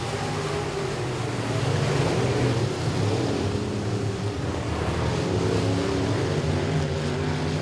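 Race cars at Boothill Speedway during the Billy Melton Memorial race night, a continuous roaring drone of several engines heard from a distance, steady and unbroken for the whole stretch.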